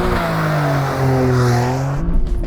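A Toyota GR Corolla hatchback's engine revs hard in a launch from standstill, its pitch climbing steadily before easing off, loud and close.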